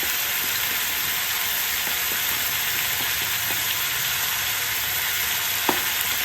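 Spices with turmeric, coriander powder, ginger paste and salt fry in a pan, giving a loud, constant hissing sizzle with a few faint clicks of stirring.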